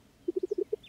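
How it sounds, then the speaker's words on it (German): Pet duck in the farming video game Coral Island quacking, six short clipped calls in quick succession, clear and close against a quiet background. "Das ist Fun Bucket, meine Hausente."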